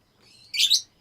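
A pet bird lets out a single bright, high chirp, close and fairly loud, after a faint thin tweet, with no talking.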